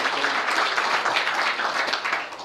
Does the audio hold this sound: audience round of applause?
yes